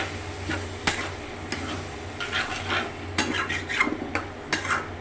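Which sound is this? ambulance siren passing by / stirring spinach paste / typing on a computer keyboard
stirring spinach paste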